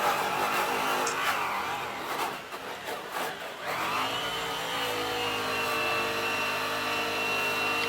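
A polisher buffs compound across an acid-washed aluminum wheel, its motor whirring steadily with pitch changes as the pad drags, dipping briefly before settling into a smooth continuous drone.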